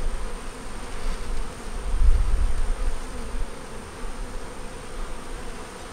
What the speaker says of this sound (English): They got a lot of bees.